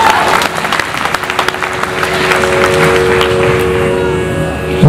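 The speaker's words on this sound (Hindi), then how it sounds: "इन आपके लिए बजाइए भाई जोरदार ताली बजाइए" A large audience at a live concert of Sufi devotional singing at Konark Natya Mandap breaks into loud, sustained applause, with dense clapping filling the whole stretch while faint musical tones linger underneath.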